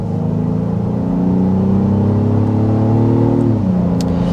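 A 2024 Honda Passport SUV accelerates on the road toward highway speed. Its engine hums loud and close with a rising drone that climbs steadily, then drops sharply at a gear shift near the end.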